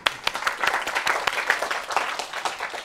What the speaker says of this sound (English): Let's give Robert a round of applause.